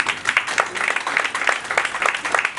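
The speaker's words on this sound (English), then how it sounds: "A round of applause" An audience at a book launch claps in steady, dense applause that carries through the whole moment, with voices murmuring underneath.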